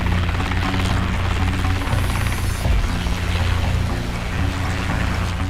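A Boeing CH-47 Chinook twin-rotor, twin-engine helicopter roars steadily in a loud, dense wash of low rotor thumping and broad turbine noise, continuous and close with no talk.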